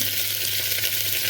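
Vegetables sautéing in oil in a pan for sambar, giving a steady, close, even sizzle with a dense hiss throughout and a faint low hum underneath, with no talking.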